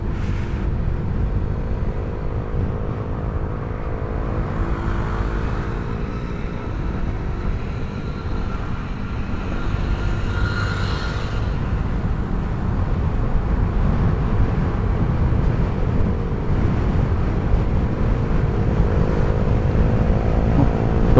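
Automatic scooter accelerating through congested traffic on a ride toward South Jakarta, a steady loud engine and road rumble filling the whole stretch with a faint rising whine, no talking over it.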